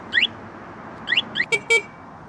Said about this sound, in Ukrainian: До речі, також є е, сигналізація.